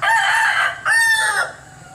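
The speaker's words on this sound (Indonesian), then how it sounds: "Suara ayam jantan berkokok." A rooster crows loudly and close by, one long crow followed by a second shorter call.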